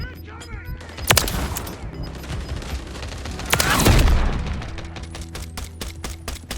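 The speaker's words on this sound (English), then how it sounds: "Taking effective fire!" Call of Duty Modern Warfare 3 gunfire crackles in bursts of rapid shots with a couple of heavy blasts, loud and close, while a voice calls out over the battle noise.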